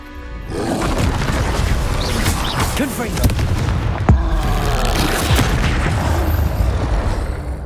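Confringo blast in the Hogwarts Legacy video game: a loud, continuous wash of booming explosive bursts and crackling impacts, with sharper hits near the 3 and 4 second marks and game voices mixed in.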